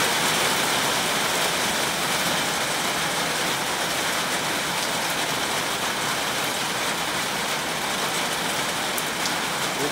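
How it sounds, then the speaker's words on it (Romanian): Steady, dense rain drums on a metal roof, a constant hiss and patter that never lets up for the whole stretch. "Pentru că plouă și se aude aici în tablă."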